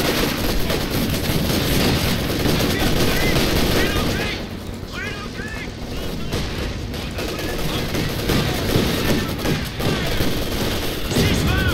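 Company of Heroes 2 battle with dense, continuous gunfire and machine-gun bursts, explosions and heavy combat noise, loud and close, with voices talking over the chaos.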